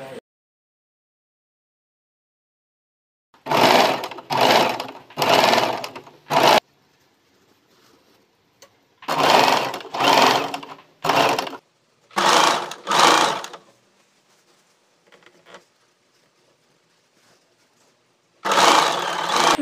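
A sewing machine stitches a round seam in cloth for a floor sofa made from old fabric, running in several loud bursts of rapid mechanical chatter separated by pauses.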